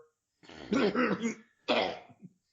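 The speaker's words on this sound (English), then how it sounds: "He's got a hangover cough." Harsh, phlegmy hangover coughing up close, a long rasping burst followed by a shorter second cough and a throat clear.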